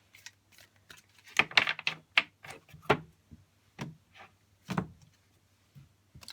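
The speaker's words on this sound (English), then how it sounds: "Pull some cards for that." Tarot cards being pulled and handled at a reading, with soft papery slaps, flicks and shuffles in irregular bursts, close and fairly quiet against a faint low hum.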